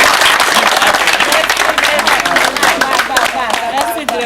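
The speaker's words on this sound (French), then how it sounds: "je voudrais que vous applaudissiez" A crowd at a water-well groundbreaking ceremony applauds loudly and steadily, dense clapping with voices and cheers mixed in throughout.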